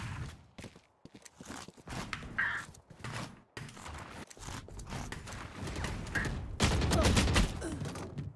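Video game gunfire comes in scattered sharp shots, some spaced and some in quick bursts, mixed with busy game ambience and movement sounds, growing denser and louder toward the end.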